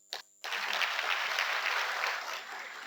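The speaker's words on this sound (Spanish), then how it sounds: "les pido un fuerte aplauso" Audience applause for the teachers at the opening of a diploma course on cooperative legislation and management breaks out after a brief knock and holds as a steady, dense clapping from many hands.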